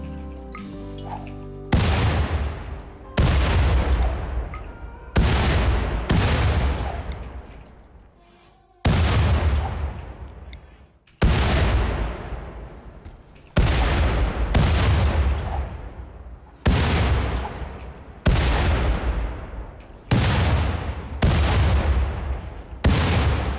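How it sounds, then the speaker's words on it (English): Frag grenade explosions from the video game RimWorld boom in a long series of about a dozen heavy blasts, each trailing off with a decaying rumble before the next. "You guys ever clean with frag grenades?"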